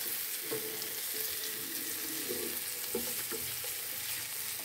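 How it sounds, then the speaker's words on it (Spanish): An egg tortilla frying in a pan while being stirred, giving a soft steady sizzle with faint scraping and clinking of the spoon, fairly quiet and close, with no talking. "Y vamos a revolver ya la tortilla aquí."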